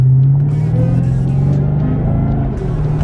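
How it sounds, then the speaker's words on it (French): A car engine revs loudly and steadily for about three seconds, a continuous deep rumble that holds close and strong, with no talk over it. "C'est un beau bruit cette voiture."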